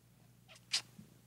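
A pet cat gives a single short, faint meow in a quiet room, a brief bright chirp over a low steady hum.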